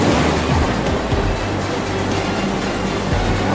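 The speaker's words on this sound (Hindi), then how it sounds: "लगता है टंकी फट गया और टंकी का सारा पानी घर में" Water from a burst tank rushes into a house, a loud, continuous broadband roar that holds steady throughout with no pauses.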